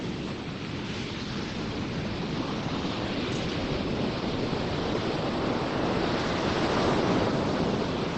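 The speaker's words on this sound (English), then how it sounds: "The sound of the pebbles, the draw of it is incredible." Waves draw back over pebbles on a south coast English beach at sunset with the tide going out, making a steady, loud, rushing hiss that swells slightly, with no voices.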